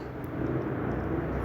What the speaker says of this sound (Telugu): ఫ్లైట్ వెళ్తుంది,